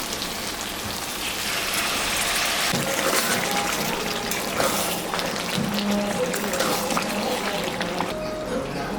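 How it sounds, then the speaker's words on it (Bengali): Hot water poured into a pan of spicy red chicken chaap gravy makes a close, continuous splashing hiss that carries on steadily for the whole stretch, with faint bubbling underneath. "এখানে গরম জল করা আছে এটা এখন আমি দিয়ে দেবো"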